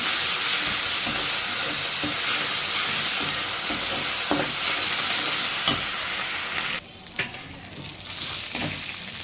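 Chickpeas frying with ginger garlic paste in a pan, a loud continuous close sizzle with stirring scrapes that suddenly drops to a quieter hiss partway through, with no talk.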